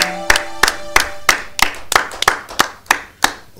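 A congregation at a French-language church service claps in a steady rhythm, about ten sharp, evenly spaced hand claps over a few seconds, close and fairly loud with no voices over them.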